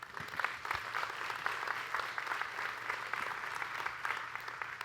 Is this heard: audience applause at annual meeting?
yes